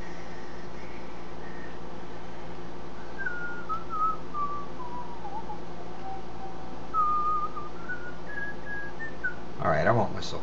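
A person whistles a meandering, wavering tune softly in a quiet room, the thin melodic line drifting up and down over faint background hiss, ending with a brief louder clatter.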